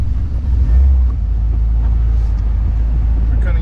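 A 1957 Ford Thunderbird engine on a test drive on a hot day gives a steady, deep, loud rumble heard from inside the car throughout.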